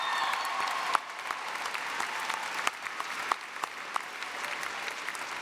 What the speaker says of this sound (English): Ladies and gentlemen, please give these fine individuals a round of applause